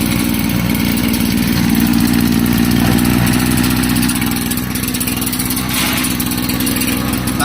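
A generator engine on a Nigerian goat farm runs loud and close, with a steady, throbbing mid-pitched drone that holds without a break from start to finish.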